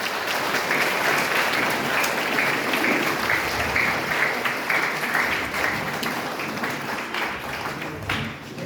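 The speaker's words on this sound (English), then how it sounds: "So let us give him a quick round of applause and welcome him." Sustained audience applause at a school welcome ceremony, dense steady clapping from many hands that carries evenly throughout before easing slightly at the end, with no talking.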